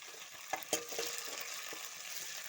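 Ginger paste being stirred with fried onions in hot oil, heard as a faint, steady sizzle with a few soft spatula clicks near the start.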